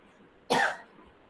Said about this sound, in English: this coughing is not corona coughing, ordinary coughing only.